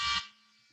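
A loud alarm tone sounds near the start, a dense harmonic blare for about a fifth of a second, then lingers faintly as it fades out.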